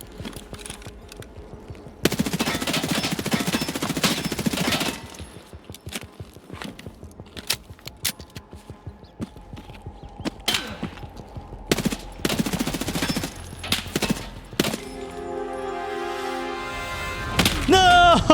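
Gunfire in the video game Escape from Tarkov: repeated bursts of automatic fire and single shots over about eighteen seconds, loud and close, with gaps of footsteps, movement and faint game sounds between volleys.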